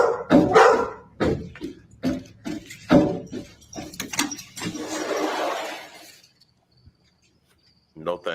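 A dog barks in several sharp bursts close by, mixed in with people talking, then the scene falls nearly silent.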